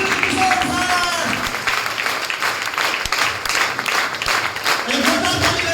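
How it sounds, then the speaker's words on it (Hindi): An audience applauds to welcome a speaker onto the stage at an event, with dense sustained clapping throughout and a voice speaking over it. "तो एक जोरदार ताली चाहेंगे"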